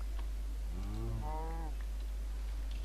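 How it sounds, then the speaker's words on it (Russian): A single long moo from a cow in the video game Minecraft, rising then falling over about a second, fairly clear above a steady low background hum. "Так, там еще есть такие коровушки."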